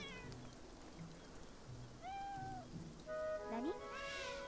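A cat meows several times nearby, with rising and falling drawn-out cries coming faster toward the end, while light rain patters faintly in the background.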